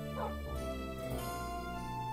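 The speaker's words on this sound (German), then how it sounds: "Warum folgen mir die Hunde jetzt auf einmal? Alter, Minecraft, du verarschst mich doch echt." Dogs in the Minecraft video game making yipping, whimpering bark-like calls with harmonic tones, a couple of short yelps near the start over a steady game background, fairly quiet.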